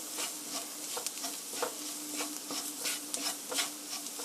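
Flour stir-fried in a pan until golden, a soft steady sizzle under repeated light scraping strokes of a spoon or spatula, close and fairly quiet, rhythmic and even.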